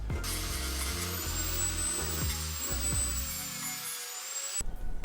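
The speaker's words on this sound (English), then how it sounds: "I might just try and grind down this piece right here, make a little more clearance" A power grinder runs steadily on a metal piece clamped in a bench vise, cutting clearance in a twin turbo Mustang, a loud continuous whining hum with shifting pitch that cuts off abruptly near the end.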